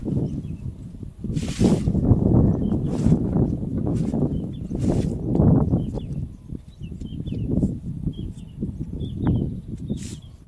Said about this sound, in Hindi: बड़ा ही अच्छा मौसम है आज, खूब बढ़िया हवा है।